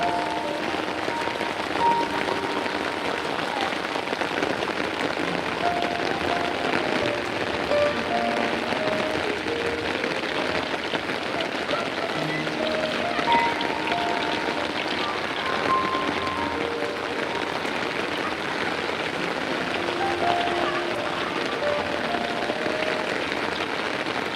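Heavy rain pouring down, a dense, even hiss of drops on surfaces that holds steady and loud the whole time, with no voices.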